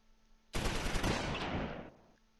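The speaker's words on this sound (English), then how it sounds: "They're shooting at our recon squad." A short burst of rapid gunfire aimed at a recon squad in the Close Combat IV war game, a dense clattering volley lasting over a second, fairly loud against a quiet background.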